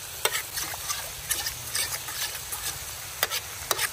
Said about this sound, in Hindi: अब यहाँ पे मसाले को थोड़ा सा पकाना है